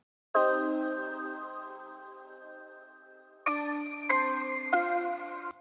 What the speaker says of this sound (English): this other sound as well, is like a bell sound